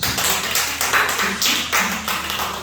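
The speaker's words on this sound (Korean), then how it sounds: "박수 한번 가세요" A church congregation at a Wednesday worship service claps together, giving a dense, sustained wash of hand claps at a steady pace with no talking.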